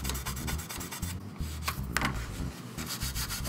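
Gentle sanding of a plastic seam on an F-14A Tomcat model kit, a close, quiet, steady rasping with short back-and-forth strokes and brief pauses.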